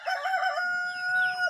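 A rooster crows close by in a home garden in Jagna, Bohol, one drawn-out cock-a-doodle-doo that is clear and fairly loud with nothing else over it.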